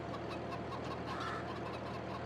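Chickens in a coop in Farming Simulator 22 cluck steadily over a constant low background hum, with repeated soft clucks spread across the short stretch.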